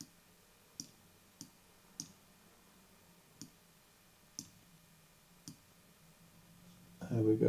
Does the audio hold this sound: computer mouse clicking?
yes